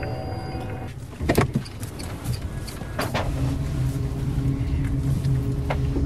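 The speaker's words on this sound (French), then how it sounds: "c'est effectivement très silencieux comme voiture" Renault Zoe electric car driving quietly on Paris streets, a steady low hum of road and motor noise with a few brief clicks and knocks from inside the cabin; no voices.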